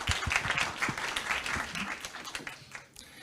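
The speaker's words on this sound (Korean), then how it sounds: "큰 박수로 모시겠습니다" Audience applause at a Korean conference on packaging plastics and the circular economy, welcoming the first presenter: a short burst of scattered claps from a modest crowd, fading toward the end.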